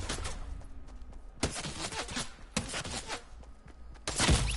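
Video game gunfire crackles in several sharp bursts and single loud cracks, close and punchy, spread unevenly across a noisy background with no clear voices.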